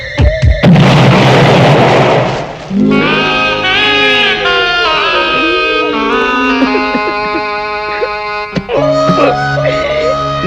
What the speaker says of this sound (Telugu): అమ్మో పేలుతాయేమో.